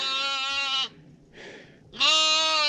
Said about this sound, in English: That's Miss Penelope crying right there